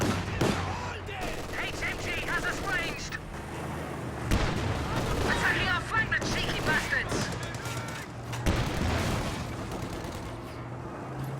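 Machine gun bursts and other gunfire crackle through a Company of Heroes 2 real-time strategy match, with an MG emplacement holding against an armored car, in repeated sharp volleys under continuous commentator talk.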